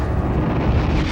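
A cannon shell bursts on a wartime beach, a loud, deep, rumbling blast that fills the short moment with roaring low-end noise.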